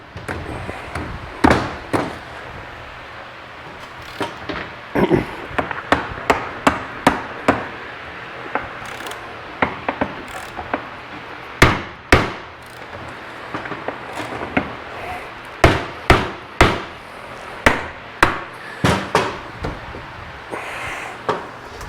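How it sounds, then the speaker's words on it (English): Hammer tapping apart the engine crankcase of an Arctic Cat Prowler XT650, many sharp, close knocks in uneven bursts throughout. "So it says sometimes you got to give it a little love tap."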